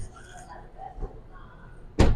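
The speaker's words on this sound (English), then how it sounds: "So the door itself closing same as a Toyota RAV4 or Highlander." Faint talk gives way to the solid, muffled thunk of a 2024 Lexus RX car door closing once, close and loud, at an auto show.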